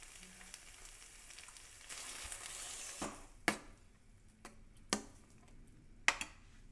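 Spices, including coriander powder, sizzle softly in hot oil for a gravy base while a spoon stirs, with a few sharp scraping knocks against the pan at intervals.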